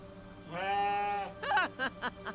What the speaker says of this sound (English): This is a goat. Or a sheep. And it goes bleh.